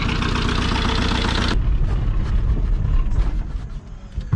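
A VW TDI diesel engine running steadily, loud and close, with a broadband roar and a brief rev change partway through.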